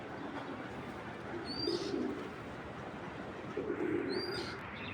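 A racing pigeon coos softly twice in low, rolling phrases, with faint chirps above and a quiet background hiss between calls.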